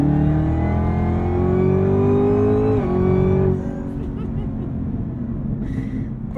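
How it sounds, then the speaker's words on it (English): Supercharged engine of a 2023 Camaro ZL1 with 10-speed gearbox pulls hard at full throttle, a loud steady roar rising in pitch for about three seconds before easing off to a lower rumble. "if you want to get more supercharger wine, you kind of just have to go full throttle"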